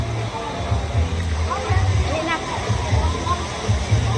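A waterfall pours inside a cave with a steady, close rushing roar, while voices talk loudly over it throughout.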